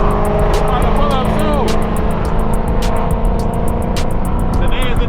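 A cammed Chrysler 300C driving hard on the road, its engine droning loudly and steadily throughout, up close and from inside the car, with wind and road noise and a little squeal from tires.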